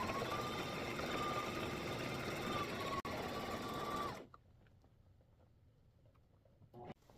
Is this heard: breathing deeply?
no